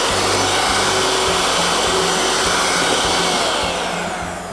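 Electric mixer beating cake batter with melted butter, a loud continuous motor whir with a faint rhythmic churning underneath, tapering off toward the end.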